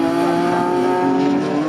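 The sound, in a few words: Caterham race cars passing on track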